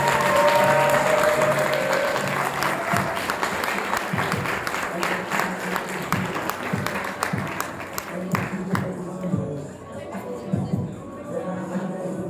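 An audience applauds a speaker at the final of an eloquence contest, with dense, sustained clapping from a full room that gradually thins and turns more scattered toward the end, with a light murmur of voices.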